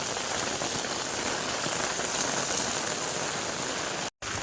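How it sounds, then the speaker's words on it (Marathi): Heavy monsoon rain pouring down in Virar near Mumbai, a dense, loud, continuous hiss of drops on surfaces that cuts out for a brief moment near the end. "आज तर खूपच पाऊस आहे कालपेक्षा"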